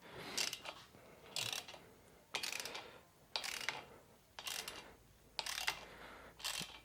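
A ratchet wrench works a stubborn bolt on a motorcycle fender, giving about seven short, clicking ratcheting bursts at a regular pace, quiet and close with no talking.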